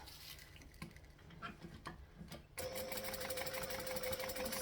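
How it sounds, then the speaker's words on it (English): A sewing machine top stitching fabric starts after a few soft handling sounds, then runs in a steady, close mechanical whir to the end. "I'm going to top stitch on both sides"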